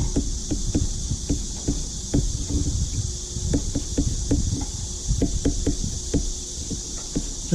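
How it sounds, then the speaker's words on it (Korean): Cicadas sing outdoors in a steady, high-pitched drone that never lets up, heard from indoors beneath frequent soft clicks and taps, with no talking. "지금 밖에서는 매미가 한참 울고 있는데요."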